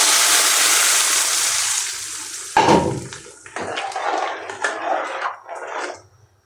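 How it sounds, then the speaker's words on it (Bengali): Hot baghar tempering poured into a pot of thin lentil dal, giving a loud hiss and sizzle that fades over a couple of seconds, followed by softer bubbling and spattering bursts. "এখন আমি ডালে বাগারটা ঢেলে দিতেছি।"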